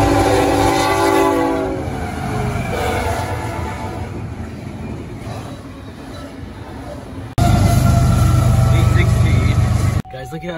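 A CSX freight train rolls past a crossing with its horn sounding in long blasts near the start, cars rumbling and clattering loudly throughout, growing heavier toward the end before an abrupt cut.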